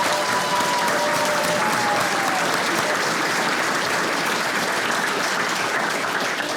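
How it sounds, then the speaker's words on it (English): Audience at an evening event with a Ukrainian musician at the University of Notre Dame applauding steadily, a dense, sustained clapping that fills the room from start to finish. "I think that is deserving of another round of applause."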